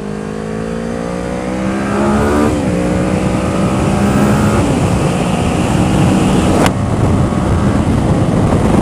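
Motorcycle on an open road making a faster pass, engine note rising steadily then shifting gear twice as it accelerates close by, loud throughout with no talk.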